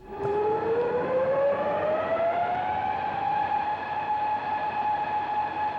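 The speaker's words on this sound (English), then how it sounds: "it's actually the basis of the sound of the whirling of the saucers and the mechanisms that go with it" A whirring electronic tone glides slowly upward in pitch then holds steady, humming and droning like a spinning flying saucer, loud and continuous; the saucer effect from the 1956 film Earth vs. the Flying Saucers.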